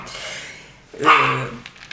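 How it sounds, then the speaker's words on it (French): A dog indoors gives a short, loud bark-like yelp with a whimpering tone, close by, following quieter background noise in a room. "excusez-moi pour le chien."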